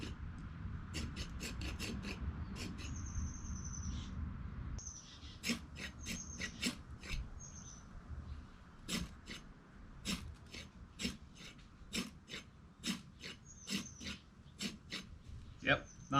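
A knife choil scraped against a fire starter rod throws sparks: a series of short, rasping strikes repeating roughly every second, close by, with faint breathing and rustling between them.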